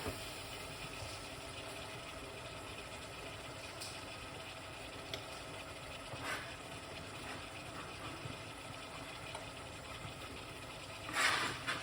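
Water boils up in a pot at a Jamaican street food stall during a meatless cooking session: a continuous dense bubbling hiss that holds steady throughout, with a few louder surges and outdoor background noise, and no speech.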